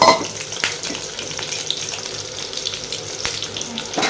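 Sliced onions and two green chillies crackle in hot oil, a bright continuous sizzle with scattered pops and a few sharp clatters from stirring.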